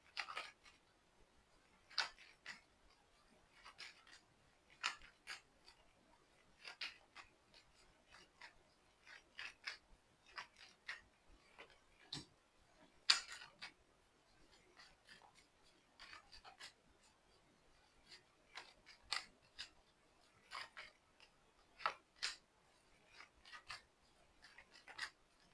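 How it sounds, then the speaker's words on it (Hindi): Tarot cards being shuffled by hand, a long run of soft, papery riffles and rubs in irregular bursts, close and fairly quiet, with no talking. "मुझे फिर से शफल करना पड़ेगा"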